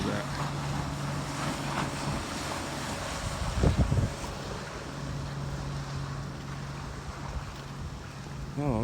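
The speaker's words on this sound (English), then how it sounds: "Speedboats coming through." Speedboats running past on open water near a state park shoreline, a steady roar of engines and wind with splashing waves, one brief louder thump in the middle.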